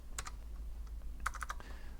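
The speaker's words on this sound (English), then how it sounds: "So we're going to type sudo, and we're going to type apt install" Keystrokes on a computer keyboard connected to a Raspberry Pi, a couple of quick taps followed by a short burst of rapid clicks, close and crisp over a faint low hum.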